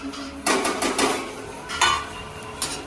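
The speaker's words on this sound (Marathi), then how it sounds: "त्याला जरा फ्राय करूया शेंगदाणे हळद" Peanuts frying with turmeric and asafoetida in a pan for Maharashtrian poha, a low sizzle under a few bursts of spoon scraping and clinking against the pan, close, with no talk.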